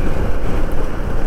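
A vehicle fords a flooded river near Lonavala, throwing up water in a loud, close, rushing wash of splashing and wind buffeting, with no voices.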